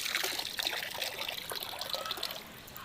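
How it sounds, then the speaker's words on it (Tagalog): Tap water runs and splashes steadily over tomatoes, ginger and calamansi being rinsed under a faucet, with small uneven patters as the ingredients move in the stream. "So hugasan po natin sa gripo."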